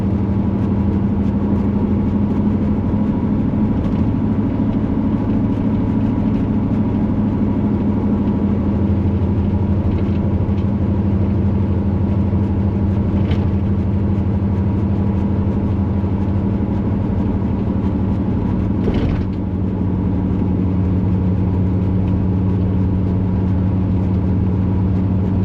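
A 1977 Corvette cruising on the road, its engine a steady low drone with a constant hum running unbroken for the whole stretch and only slight shifts in pitch, no voices.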